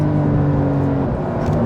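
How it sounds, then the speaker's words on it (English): A 2021 Porsche 911 Carrera 4S engine pulls hard at full throttle, a loud, close, steady roar with a continuous droning tone and no break. "this button is a sport response button, which gives me 20 seconds of full throttle"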